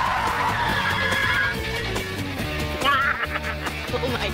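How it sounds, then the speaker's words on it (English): Car with an automatic transmission braking hard from 50 on asphalt, tires skidding and squealing loudly in a long continuous screech, with smoke coming off the tires. "First up is the regular braking distance on the automatic."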